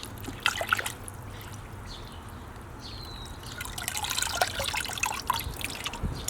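Water dripping and trickling off a freshly hydro-dipped Jordan sneaker, close-up splashy drips and patters that build into a fuller trickle toward the end.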